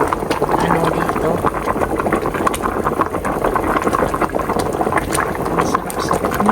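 Tuna steak soup boiling in a pot, a steady dense bubbling and rumbling roil that continues loud and unbroken from start to finish.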